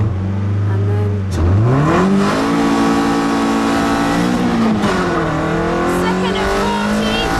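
A car launches hard from standstill on a 0 to 60 run, its engine roaring and climbing steeply through the revs after a brief pause, loud and close, with a voice briefly speaking over it.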